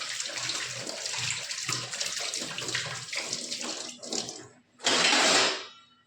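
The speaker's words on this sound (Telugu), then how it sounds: "ఇప్పుడు చేయి కడుక్కొని వెళ్తాను" Water runs from a tap as hands are washed at home, a steady close splashing stream that fades briefly before a louder gush bursts and then trails off.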